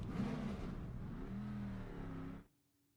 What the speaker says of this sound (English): I also want you to listen to the engine when we start it up